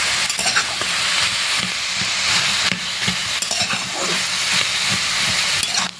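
Ginger, green chili, cumin paste and sugar stirred in a hot pan, giving a loud continuous sizzle with rhythmic spatula scrapes close by and no talk.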